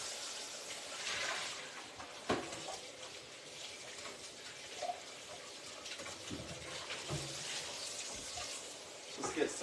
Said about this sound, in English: Let me change this water.